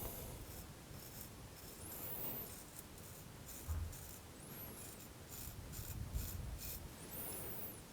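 A Work Sharp knife and tool sharpener with its belt pulsed against a knife blade, giving faint, close, steady rasping and rubbing with short bursts, soft throughout and no speech.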